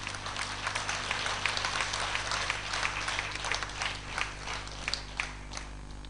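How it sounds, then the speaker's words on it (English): A convention audience at a convent claps continuously, a dense, even patter of many hands at moderate distance that thins slightly toward the end. "We give a round of applause to her."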